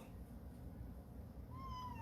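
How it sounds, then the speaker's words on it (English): A house cat gives a single faint meow late in the short stretch, heard over a low, steady room rumble in a home kitchen. "Yeah, that was her. Meow. She answered."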